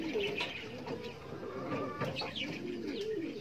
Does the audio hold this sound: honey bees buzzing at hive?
no